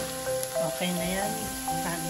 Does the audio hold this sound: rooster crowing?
no